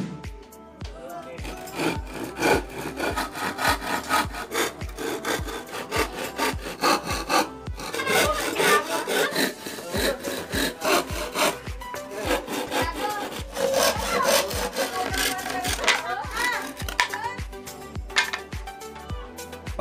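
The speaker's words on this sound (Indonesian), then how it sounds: "mari kita langsung ke proses penggergajian" Wooden parts for a model MP5 gun are cut with a hand saw in a steady back-and-forth rhythm of rasping strokes, close and fairly loud, continuing with short pauses throughout.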